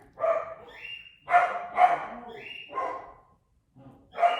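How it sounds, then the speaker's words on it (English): A pet dog barks in a home in a string of separate loud bursts, several barks spaced across the moment, close by with no talking over them. "My dog's barking."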